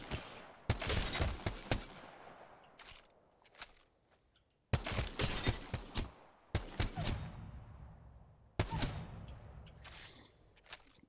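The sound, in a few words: G7 Scout rifle shots in Apex Legends video game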